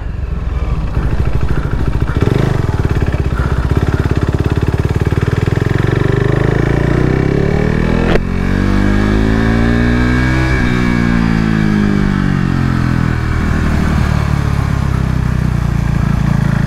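KTM RC 390 Cup single-cylinder race bike at full throttle on a track at Adams Motorsport Park, heard loud and close from onboard. It revs up through the gears, downshifts with a brief blip, then pulls hard again.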